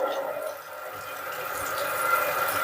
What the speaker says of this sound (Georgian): უბრალოდ გამდინარე წყალი გადავავლოთ